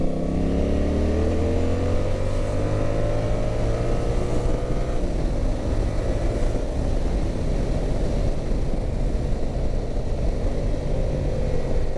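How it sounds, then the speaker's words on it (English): Motor traffic moving slowly along a road, heard from a motorbike, with a steady dense engine drone and low hum, some rising and falling engine tones passing nearby, continuous throughout. "These cars are going a bit slow, aren't they?"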